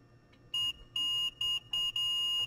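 A multimeter on continuity test gives a string of sharp, loud electronic beeps in short bursts of uneven length while probing wiring in a Columbia 2692 8-track player being repaired for no right-channel audio.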